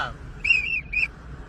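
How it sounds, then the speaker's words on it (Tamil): A whistle is blown in two short, shrill, steady blasts with a brief gap between them, clear and fairly close over a low murmur of background noise. "இனிமேல் விசில தான் பேசுவீங்களோ"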